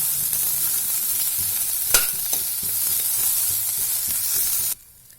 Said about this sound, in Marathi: छान भाजला जाईल हा कांदा छान आपण गोल्डन ब्राऊन होईपर्यंत छान भाजून घेऊया